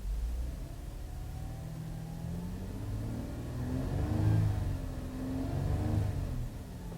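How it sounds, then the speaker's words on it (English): A 2012 Cadillac CTS 3.6-liter direct-injected V6 idles, then revs up and down twice with a rising and falling rumbling tone, heard up close and alone. "It doesn't sound overly powerful, but it still has a nice rumble to it."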